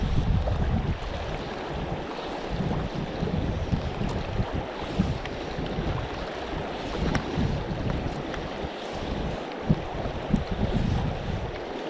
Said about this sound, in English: we're getting an upstream wind coming on now